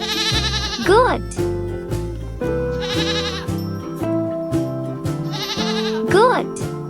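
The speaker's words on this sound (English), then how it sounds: "Goat." Goat bleating among farm animals, three loud wavering cries near at hand, spaced a few seconds apart over a bouncy musical backing.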